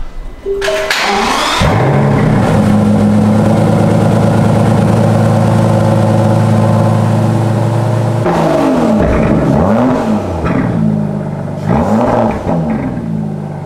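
An Aston Martin DBS engine starts, settles into a steady loud drone through quad exhaust pipes, then is revved repeatedly in rising and falling surges, close by with no speech.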